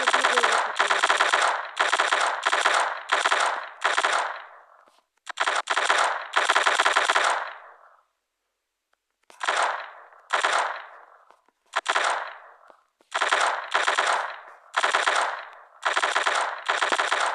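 Rapid bursts of automatic gunfire in a video game, loud and close, firing in short repeated volleys with brief pauses between them.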